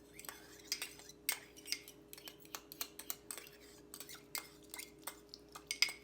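Bread dough being mixed with room-temperature water in a bowl gives a series of soft, irregular clinks and scrapes, quiet and close, with no talking.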